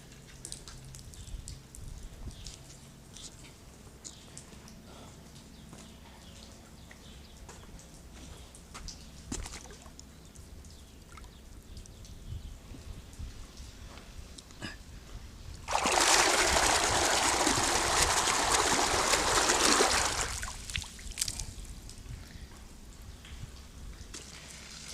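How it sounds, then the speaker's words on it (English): Water gushes under pressure from a 2-inch soaker line running beneath a cattle feed lane, a loud steady spray starting partway through and cutting off about four seconds later, with quieter outdoor ambience before and after. "There's that kind of pressure with even that soaker line filling up with water and shooting out the front."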